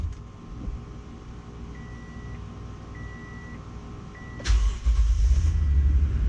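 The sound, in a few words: Toyota Tundra truck driving on its first test drive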